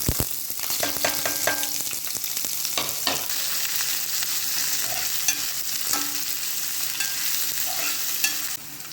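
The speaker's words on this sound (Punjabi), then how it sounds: "ਤੇ ਹੁਣ ਆਪਾਂ ਪਾਵਾਂਗੇ ਆਲੂ ਪਿਆਜ਼" Potatoes and onions fry steadily in a pan of cumin-tempered oil for Punjabi kadhi, a continuous close sizzle broken by a few clattering stirs and scrapes near the start.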